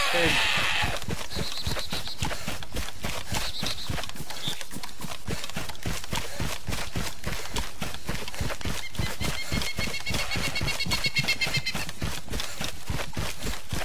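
Livestock sounds from a pig and cow in the DayZ survival game, a steady fast run of hoof-like clip-clop beats with bleating, whinny-like calls over constant game noise, with a voice speaking at times.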